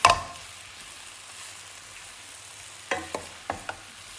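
Chicken spring roll filling turned over in a hot pan: a faint, steady frying hiss, with a short run of four quick scrapes and knocks from the spatula near the end.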